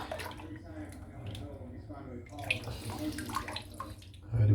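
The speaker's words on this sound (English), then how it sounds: "Now, I'm just going to clean the soap out because there's not much left in there." Running water rinses leftover Mitchell's Woolfat shaving soap out of a bowl, a splashing, gurgling flow with shifting bursts and a louder surge at the end, while a voice talks softly underneath.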